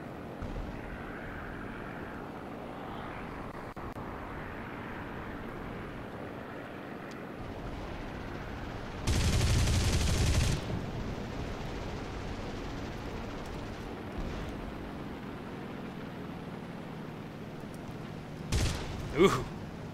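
In a propeller-plane flight combat simulator game, an aircraft engine drones steadily throughout while a loud burst of gunfire rattles for about a second midway, followed later by a few sharper bangs.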